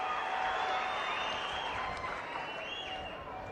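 Crowd applause and cheering at a large outdoor public political meeting, a continuous wash of clapping with whistles and shouts rising above it, steady and fairly loud throughout.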